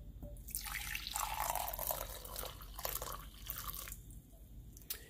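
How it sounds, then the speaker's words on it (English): Homemade simmered coffee creamer poured into a glass, a steady splashing trickle of liquid lasting a few seconds, close and fairly quiet. "We're going to go ahead and pour it in the glass"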